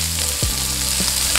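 White and red onions frying in a pan, a loud close continuous sizzle with a brief scrape of stirring partway through and no voices.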